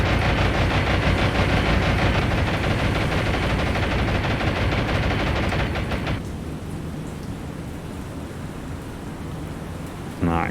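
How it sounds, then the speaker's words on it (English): Thick anti-aircraft fire from destroyers in War on the Sea, a dense continuous barrage of rapid bursts filling the first six seconds, then dropping to a quieter rumbling wash of distant firing, with a brief sharp burst near the end. "That is some thick anti-aircraft fire."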